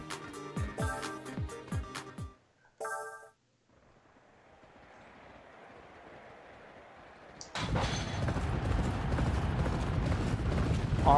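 Horses galloping on a dirt track in the racing game Champion Jockey, with a rapid drumming of hooves that comes in loud after a short lull and continues, over earlier game interface clicks and tones.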